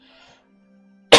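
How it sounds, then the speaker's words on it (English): A single loud, close cough bursts out at the end after a near-silent stretch with a faint hum. "that was a cough that just blew out your ears"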